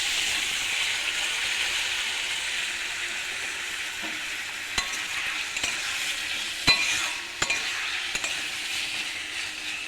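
Fish frying and being stirred in a pan with turmeric and cumin powder, giving a steady soft sizzle with occasional light clinks of a utensil against the pan, heard close and alone.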